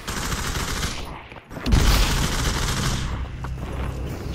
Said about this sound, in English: Shooting at a building right now.